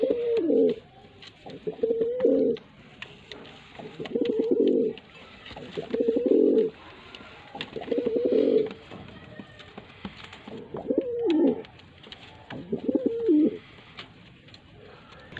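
Kamagar pigeons cooing in a loft, a series of about seven low, rolling coos in close succession, fairly near and clear with no talking over them.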